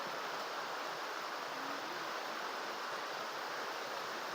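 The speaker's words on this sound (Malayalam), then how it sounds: "നല്ല മഴ" Heavy rain pours down as an even, soft, unbroken hiss with no voices.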